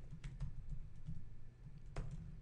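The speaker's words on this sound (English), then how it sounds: "I didn't have to type all that out," Keys clatter faintly on a computer keyboard as a router command is typed, quick uneven taps in a short run and a final sharper stroke, close but quiet with no talking.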